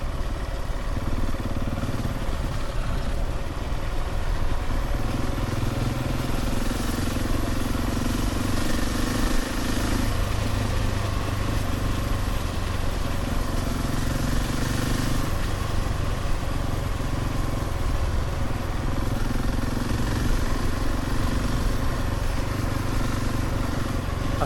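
A Husqvarna 701 Enduro motorcycle rides a winter mountain pass road, its single-cylinder engine droning steadily and close with slight shifts in pitch and a little mechanical clatter, running continuously without speech.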